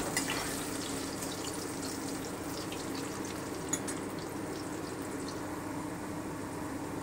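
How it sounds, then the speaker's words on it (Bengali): Potato pieces coated in salt and turmeric frying lightly in hot oil, a steady even sizzle that holds throughout with no voices. "এবার এটাকে আমি হালকা করে একটু ভেজে নেব।"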